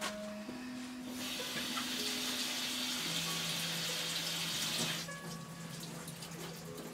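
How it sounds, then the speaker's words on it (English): Tap water runs steadily into a sink as hands are washed under it in a home kitchen, a constant close hiss that swells slightly for a few seconds before easing. "I'm going to wash my hands."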